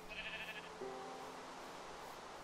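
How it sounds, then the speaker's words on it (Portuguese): A sheep bleats in Minecraft on an open plain, a short wavering cry followed by a second lower bleat, clear and moderately near over quiet background. "Pelo menos tem ovelha."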